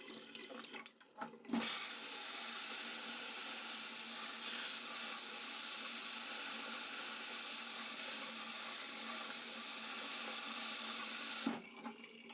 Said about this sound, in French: Je lave avec de l'eau pour enlever les traces de curcuma.